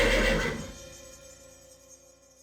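A horse whinnies loudly and close at the very start, the neigh trailing off into a faint, quieter tail over the next two seconds with no talking.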